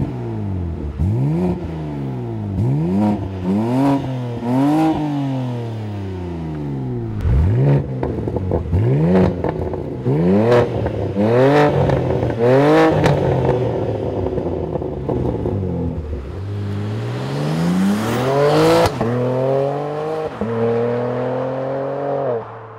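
Loud, raw exhaust of a BMW G80 M3 with a muffler-delete stainless exhaust revving hard through repeated gear changes on back roads, rising and falling pitch with crackles, close and continuous.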